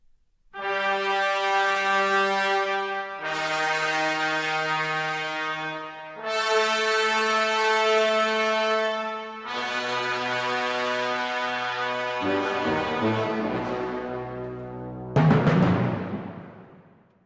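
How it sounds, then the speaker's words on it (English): Brass instruments sound four long, sustained majestic chords one after another, loud and full, followed by a brief percussive swell at the end, from Holst's The Planets. "the first 4 long notes, they were all by brass instruments"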